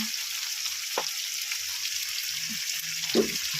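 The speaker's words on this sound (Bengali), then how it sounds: "একটু সামান্য জল দিয়ে দিলাম যাতে যাতে মশলাটা কষানো যায়" Spice paste (masala) for cauliflower curry with koi fish frying in a pan after a splash of water, giving a steady broadband sizzle with a few soft stirring knocks, near and continuous, no talk.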